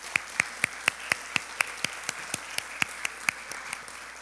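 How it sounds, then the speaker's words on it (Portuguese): Steady, evenly spaced claps during a church service, a regular rhythm of about four sharp hand claps per second, fairly faint over a quiet room. "Você pode aplaudir Jesus?"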